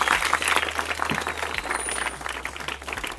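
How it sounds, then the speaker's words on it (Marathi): An audience at a village school interview event honoring a local talathi claps steadily, a dense wash of many hands sustained throughout, with a low electrical hum underneath. "एकदा जोरदार टाळ्या होऊन जाऊ द्या यांच्यासाठी"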